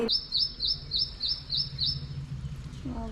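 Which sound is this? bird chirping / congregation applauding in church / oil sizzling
bird chirping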